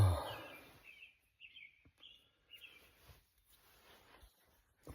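At dawn in the backwoods, a bird calls repeatedly, a few faint chirps spaced across the quiet morning air, well off in the distance.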